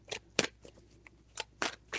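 Tarot cards are shuffled in a few separate bursts, crisp riffling swishes spaced unevenly, close and fairly quiet, with no voices.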